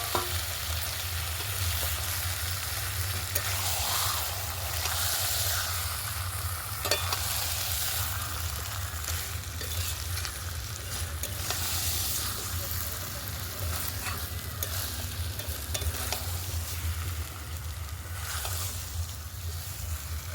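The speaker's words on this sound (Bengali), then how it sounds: "সাবধানে ভালো করে নেড়ে নেড়ে মাংসগুলো কষিয়ে নিতে হবে" Marinated chicken with ginger-garlic paste and spices frying and being stirred in a pan for a village-style chicken biryani, a steady loud sizzle with scraping stir strokes throughout, no talking.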